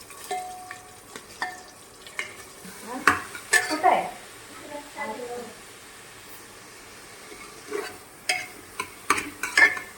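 Onions fry in peanut oil in a home kitchen for a mutton curry, with a soft sizzle, occasional stirring and clinks of a pan, while people talk over it.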